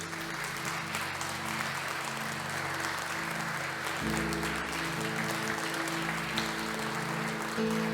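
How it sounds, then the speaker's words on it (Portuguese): A church congregation applauds, steady dense clapping over sustained organ or keyboard chords that shift partway through, with the clapping continuous and moderately loud. "Fica de pé e aplauda ao Senhor nessa hora em nome de Jesus."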